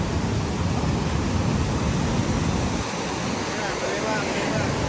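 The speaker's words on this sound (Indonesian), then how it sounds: "bisa dengar deru ombak" Loud, steady roar of surf crashing nearby at Kuta Beach, Bali, a dense wash of noise with wind buffeting the microphone.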